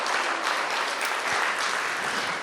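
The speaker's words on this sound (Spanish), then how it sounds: "¿Cuántos le dan el aplauso al Señor?" A church congregation claps together in a loud, sustained, even burst of applause that fills the whole moment, with no talk above it.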